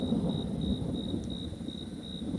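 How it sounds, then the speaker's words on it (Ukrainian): Low, distant thunder rumbles softly and continuously beneath a faint steady outdoor hum. "І грім гримить."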